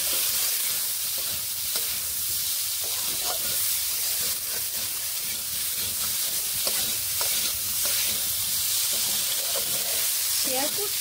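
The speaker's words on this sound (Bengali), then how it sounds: "নুন হলুদ গুঁড়োগুলোকে বেশ ভালোভাবে এর সঙ্গে মিশিয়ে এইভাবে" Potatoes seasoned with salt and turmeric are stirred in a pan, a steady loud sizzle of frying filling the background while a spatula scrapes and knocks irregularly throughout, with no talking.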